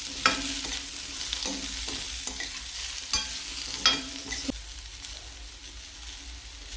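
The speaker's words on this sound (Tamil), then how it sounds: "இப்போ இந்த வெங்காயத்தை ஸ்லைஸ் பண்ணி போட்டுக்கிறோம். நாம் இதை வதக்கி அரைக்க தான் போகிறோம்" Sliced onions sauté in a pan of oil with a steady sizzle, while a utensil scrapes and stirs them in irregular, close clacks and rustles.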